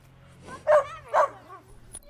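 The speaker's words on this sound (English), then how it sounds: "One of the family's dogs may also have to go." Two sharp dog barks from a family dog in a home, close and fairly loud, with a brief quieter whimper-like sound after them. Otherwise the surroundings stay quiet.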